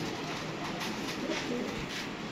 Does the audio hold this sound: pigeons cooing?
yes